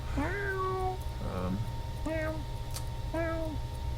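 A cat meows three or four times in short, rising-and-falling calls spaced about a second apart, close and clear over a steady low hum.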